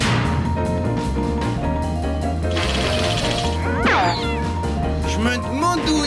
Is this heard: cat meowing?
yes